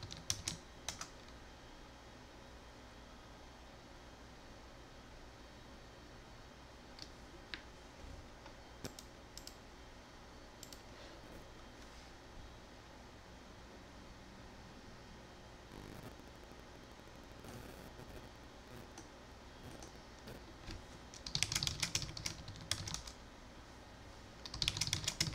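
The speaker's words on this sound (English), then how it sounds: "after a few seconds, I type my password wrong" A computer keyboard is tapped quietly as a password is entered, with scattered light clicks through most of the stretch and denser bursts of keystrokes near the end.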